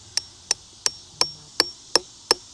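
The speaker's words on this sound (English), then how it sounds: "I want to see you swing a hammer at it." A hammer drives a metal T-post into rocky ground with seven sharp, ringing metallic strikes at an even, steady rhythm, each close and loud with a short decay.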